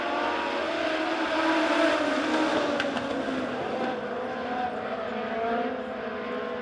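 Legends race cars roar off the green flag start at Springfield Raceway, a steady, loud blend of engines at a distance holding through the whole stretch.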